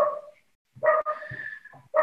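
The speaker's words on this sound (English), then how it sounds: "The dogs are very loud here." Dogs bark loudly in a few sharp separate yelps and barks at middle distance, with short quiet gaps between them.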